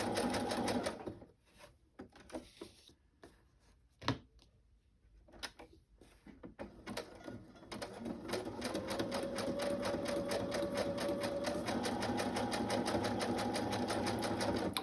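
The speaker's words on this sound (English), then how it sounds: "I just kind of sew right over the other stitching" A sewing machine stitches over fabric scraps in short, stop-start bursts at first, then settles into a long, steady, rapid whirring run that continues to the end.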